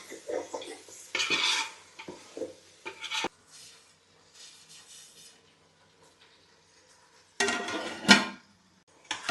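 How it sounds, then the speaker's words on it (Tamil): A spoon stirs chicken and masala in a pot for biryani, making bursts of scraping and clattering against the metal that are separated by quieter pauses, close and fairly loud. "இப்போ சிக்கனை நல்லா மிக்ஸ் பண்ணிடுவோம்."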